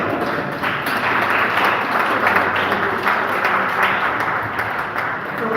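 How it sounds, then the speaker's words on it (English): An audience at a poetry and storytelling festival applauds, a dense, steady wash of many hands clapping that holds at an even loudness from start to finish. "So let's have a round of applause for them"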